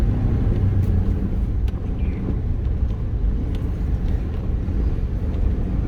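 A 1996 Chevy Yukon OBS truck with a new steering shaft rolls down the road, its steady low engine and tire rumble heard from inside the cab with no talking.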